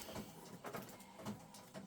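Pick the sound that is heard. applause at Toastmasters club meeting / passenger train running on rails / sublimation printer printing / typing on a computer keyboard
sublimation printer printing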